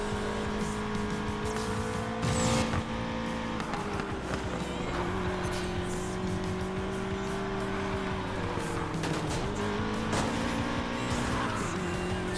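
A car engine pushed hard in the Need for Speed Payback video game, revving steadily with a sustained high drone and shifting pitch, tire noise and brief screeches mixed in throughout.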